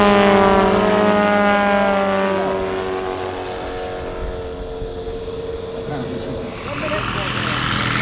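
Radio-controlled model Breitling Stearman biplanes carrying wingwalker figures fly mirror formation at an air show, their engines droning loudly and shifting in pitch as they pass, then fading before rising again.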